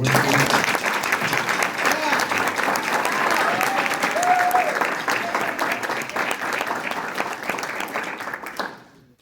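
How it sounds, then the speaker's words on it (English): Sustained audience applause fills a jazz concert hall at a university summer music camp. The clapping is dense, loud and continuous, with a faint voice briefly under it, then fades away at the end. "So I'd like to give them another round of applause."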